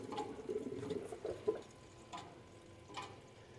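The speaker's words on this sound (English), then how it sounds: "But the water is flowing inside there." Water flows through a CO2 laser chiller, a faint trickling and gurgling with a few soft drips and bubbly splashes, fairly quiet and close.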